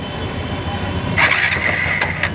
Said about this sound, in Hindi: देखो हमारा सेल्फ स्टार्ट हो गया